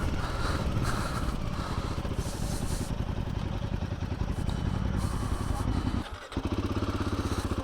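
A Royal Enfield Himalayan 450 motorcycle being ridden, its engine droning loudly and steadily with wind and rattling, dipping briefly near the end before picking back up; someone talks over it.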